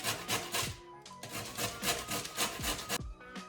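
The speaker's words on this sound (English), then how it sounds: "I haven't zested the lemon yet, so we're gonna start with that." A lemon is scraped against a zester in quick, rhythmic rasping strokes, close and clear, with short breaks between bursts.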